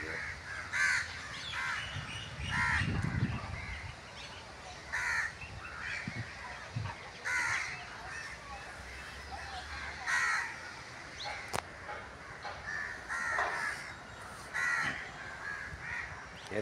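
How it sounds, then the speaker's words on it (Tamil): Repeated crow caws ring out in short bursts across an outdoor scene, some near and some farther off, with a low rumble in the background. "பறவைகளுடைய சத்தம் பார்க்க எவ்வளோ கேட்க எவ்வளவு அழகாக இருக்கிறது"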